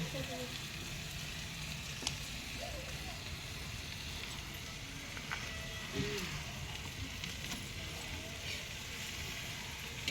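Green chillies and garlic fry for a tempering in an iron pan, a soft continuous sizzle with faint crackles and an occasional clink, quiet and steady.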